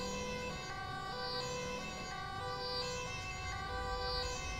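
Emergency vehicle siren wailing in GTA5 during an LSPDFR police patrol, a sustained rising and falling tone that holds steady and moderately loud over low engine rumble.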